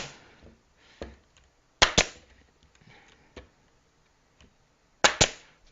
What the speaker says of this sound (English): popping a few nails in it is a lot quicker to get everything put together